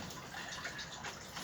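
Liquid trickling steadily into a beer-making container during a home apple-and-pear brew, a soft, continuous close-up splash with no talk.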